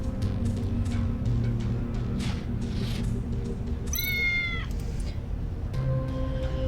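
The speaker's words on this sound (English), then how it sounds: "Look at all the happy cats." Cartoonish cats meow in the video game Tales of the Neon Sea, with a clear rising-and-falling meow near the middle over a steady game background hum.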